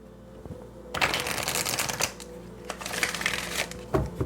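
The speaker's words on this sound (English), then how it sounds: "One more shuffle." Tarot cards riffle and shuffle close by in a steady, papery flutter with a few sharper snaps, lasting several seconds with no voices.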